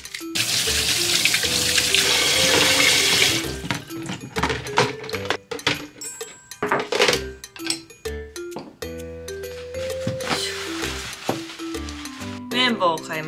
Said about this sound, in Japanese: 手洗いましょう。